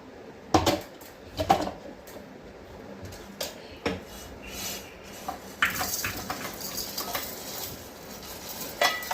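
Ground Kolhapuri masala for misal is scraped from a mixer jar into a pan: a few sharp metallic clanks and taps early, then denser scraping and clattering of the jar and spoon against metal, close by.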